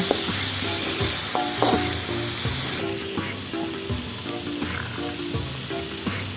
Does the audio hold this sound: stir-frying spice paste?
yes